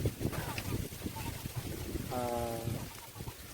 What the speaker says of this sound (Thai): โอ้ยลมเย็นสบายมากนะครับลมแรงมาก